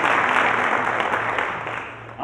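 An indoor audience at an opioid abatement conference gives a dense, steady burst of clapping that fades slightly toward the end, with a voice briefly audible underneath.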